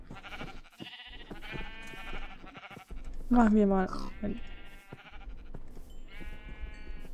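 Sheep in the game Minecraft bleat in a few loud, wavering calls near the middle, close by, while people talk in German over soft background music.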